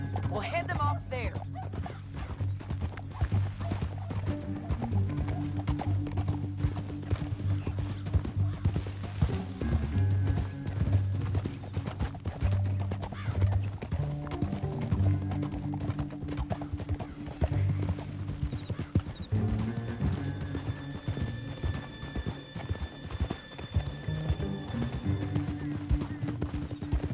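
Horse hooves clip-clop rapidly over layered Red Dead Redemption 2 game music and effects, with voices talking and an occasional whinny in the mix.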